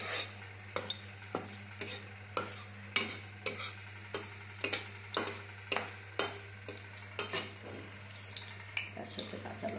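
Whole tempering spices and two green chillies frying in hot ghee, a soft sizzle under a regular series of spatula knocks and scrapes against the pan, with a low hum behind.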